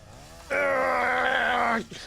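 A chainsaw from the video game Satisfactory revs with a sustained, loud buzzing drone for just over a second, then cuts off sharply, with game ambience before and after.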